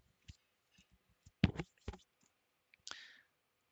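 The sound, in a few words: computer mouse double click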